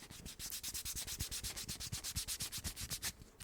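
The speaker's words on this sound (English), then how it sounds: "I'm going to pick this one off the ground because I want to rub them together." Two objects picked up off the ground are rubbed together in quick, steady back-and-forth strokes, giving a close, rhythmic scraping rasp that repeats for several seconds with no talking.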